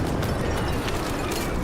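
A hostile precision airstrike in the Warzone video game erupts as a dense, continuous rumbling blast that fills the whole span, loud and close, with no clear separate impacts.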